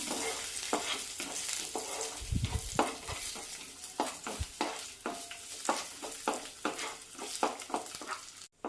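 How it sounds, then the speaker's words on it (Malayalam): Raisins roasting in a pan for rava laddu, stirred with a spoon in steady scraping strokes over a soft, continuous sizzle, with a few heavier clunks against the pan near the start. "ഇതിലേക്ക് ഉണക്കമുന്തിരി വീണ്ടും ഇളക്കി കൊടുക്കാം"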